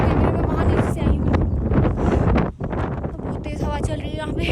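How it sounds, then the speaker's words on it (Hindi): Strong wind gusting across an open hillside in Rajgunda Valley near Bir Billing, Himachal, roaring steadily into the microphone and briefly dropping out midway. "बहुत तेज़ हवा चल रही है यहाँ पे।"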